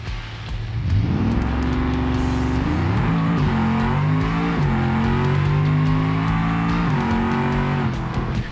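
A drag car engine in the BeamNG racing game roars through a pass, loud and close, climbing steadily in pitch through the gears with short shifts between, and no talk over it.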